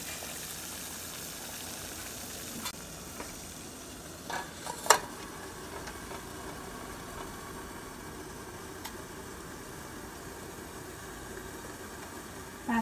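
Water at a rolling boil in a steamer pot on high heat, a steady hiss and bubbling close by, with a few clinks of the pot partway through.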